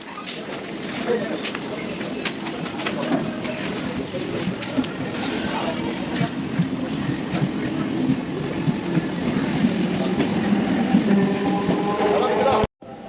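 A Howrah–Panskura local train runs along the line, its steady rumble and clattering wheels filling the carriage while a voice speaks over it and birds sound faintly.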